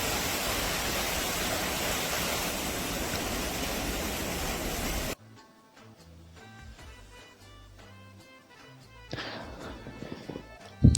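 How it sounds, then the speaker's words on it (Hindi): A rushing stream in Musa Khel, Balochistan, Pakistan gives a steady, dense wash of water noise for about five seconds, then cuts off abruptly to quieter scattered sounds with faint tonal notes. "और पानी का शोर दिलफरेब"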